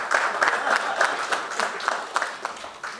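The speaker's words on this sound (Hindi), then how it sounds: "मुजीब लोधी के लिए ये तालियां कम हैं।" Scattered applause at an iftar program, a modest group clapping unevenly with distinct individual claps standing out, fairly quiet and without talk over it.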